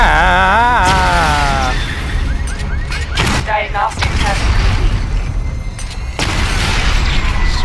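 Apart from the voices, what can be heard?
missile barrage explosions in Batman Arkham Knight video game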